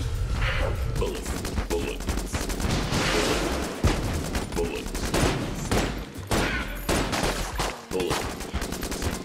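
Dense, nonstop gunfire and bullet sounds from the bullet-hell dungeon game Enter the Gungeon, loud and constant with rapid overlapping shots and occasional heavier bangs throughout.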